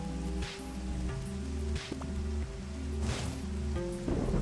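Steady rain hiss falls in the video game Diaries of a Spaceport Janitor, running continuously under tonal in-game music with a few brighter swells of patter.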